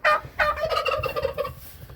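Several turkeys gobble in quick, loud bursts inside a barn shelter built on pressure-treated lumber, the rapid warbling calls close by and overlapping with no talking.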